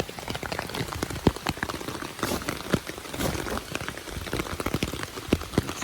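Rain patters on an unzipped hiking tent, irregular close taps and drips of varying loudness over a soft, steady wash of falling rain.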